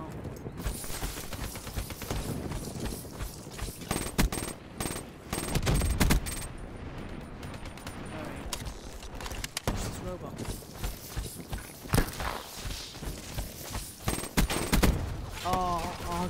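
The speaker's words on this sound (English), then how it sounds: "The shotguns are just so annoying in this game." Gunfire from shotguns in a video game plays under a speaking voice, with dense repeated blasts and busy in-game action across the whole stretch.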